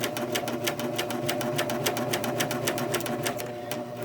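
A serger stitches a baby bandana bib seam while trimming off the seam allowance, its rapid, even needle chatter running steadily and close throughout.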